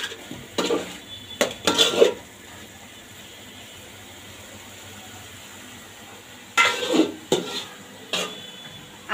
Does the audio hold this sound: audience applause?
no